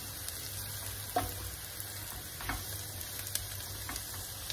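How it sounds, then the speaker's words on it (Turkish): Carrots sautéing in a pan with a continuous sizzling hiss and a few light clinks of a utensil now and then, close and moderately quiet, with no voices. "Biraz daha havuçları yumuşaması için sotelenmeye devam edecek."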